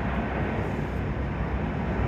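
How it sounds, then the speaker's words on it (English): Airplane passing overhead near Orlando's airport, heard from a seventh-floor hotel balcony as a steady, loud broadband roar with a deep low rumble, continuous for the whole span without any talk. "Oh, I hear a plane."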